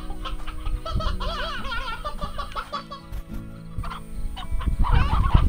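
In the video game Slime Rancher, chickens cluck and squawk in steady overlapping calls. The calls are loud and continuous, and there is no speech.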